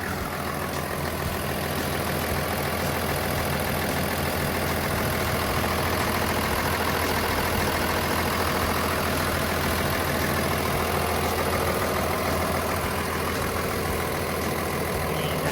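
A Komatsu WA470-7 wheel loader's 6D125 diesel engine idles steadily and loudly throughout, a continuous low rumble with mechanical clatter and no voices.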